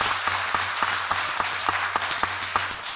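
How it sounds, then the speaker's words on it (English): Scattered applause from an audience at a town meeting, a run of separate claps at an uneven, loose rhythm over a steady room hum, with no one speaking. "there will be no applause for any speakers, please"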